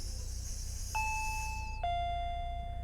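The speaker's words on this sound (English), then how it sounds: "I finally realized it was the doorbell" A two-note ding-dong doorbell chimes in the Higurashi game. Two clear, ringing tones sound in descending order and sustain over a steady low background hum.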